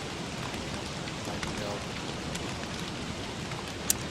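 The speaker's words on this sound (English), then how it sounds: "The rain makes it so much darker." Steady rain pours at night in the video game Don't Starve, a continuous even hiss of falling drops with a faint rumble beneath and one sharp click near the end.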